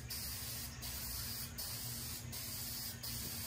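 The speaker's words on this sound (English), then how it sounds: "I don't like how it sprays" Primer hisses steadily from a spray gun onto a car, an Infiniti G37, with brief pauses about every three-quarters of a second. Nobody speaks over it.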